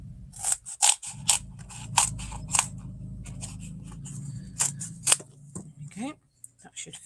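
Glue scissors snip through a sheet of foam for a card base, giving a series of short, crisp cuts in irregular rhythm, close and fairly clear over a low background hum.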